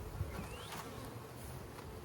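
Honey bees buzz around a recovering hive, a soft steady drone with individual insects passing close by now and then, fairly faint and alone.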